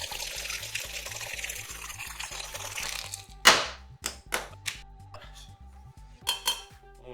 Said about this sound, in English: I just wanted to chill the tin so we could shake it quick.